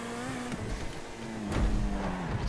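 A car accelerating in GTA Online, its engine note holding steady and then rising and growing louder toward the end, with a faint sharp noise near the finish.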